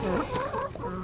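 Newly dropped-off, neglected hens clucking nearby, a short burst of several overlapping clucks and soft calls, loud and close.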